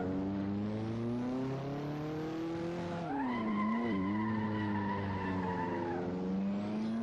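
Race car tires skidding under hard braking in the Assetto Corsa racing game, a sustained squeal over the droning engine note that bends and rises midway as the car slows into a corner.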